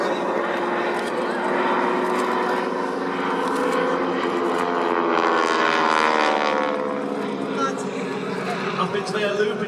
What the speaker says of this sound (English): you can hear there the rasp of the 450 horsepower Pratt & Whitney engines on these two modified